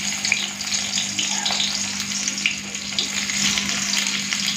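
Chopped onions fry in hot mustard oil in a heated kadai, a loud steady sizzle with crackling and occasional stirring scrapes, close by and continuous without speech.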